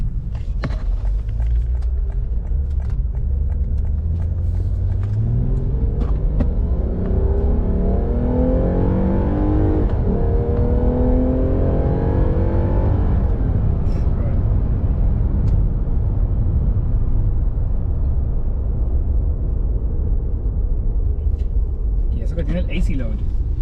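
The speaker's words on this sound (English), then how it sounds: "You can actually hear that whining of the air being sucked in. We're gonna do one more pull here" A Lexus IS350 F Sport fitted with an HPS intake and AFE air filter accelerates hard, its engine rumble rising steadily in pitch with a layer of intake whine, loud and close, while voices talk over it.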